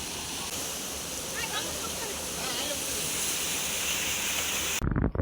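A garden waterfall pours as a loud, steady broadband rush of falling water, nearby and continuous, cutting off abruptly near the end.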